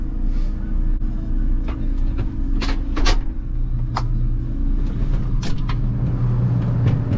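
Steady low engine rumble of a combine harvester being driven, with occasional clanks and squeaks over the constant drone.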